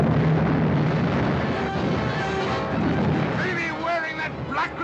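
Heavy cannons firing from a sailing ship in a sea battle, deep booming blasts and rumble, with shouting voices over the din.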